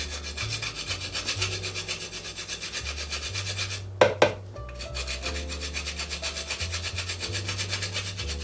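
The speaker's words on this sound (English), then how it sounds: "I'm going to be grating some fresh nutmeg" Fresh nutmeg scraped against a grater in steady, rhythmic rasping strokes close by for a pumpkin spice milkshake, with a brief knock and pause midway before the grating resumes.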